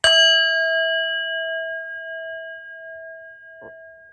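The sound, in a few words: bell ringing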